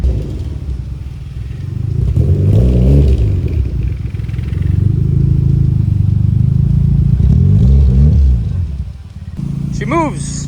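A Mazda Miata engine idles while warming up, a low, steady rumbling drone with slight swells in loudness, heard close; a voice speaks near the end.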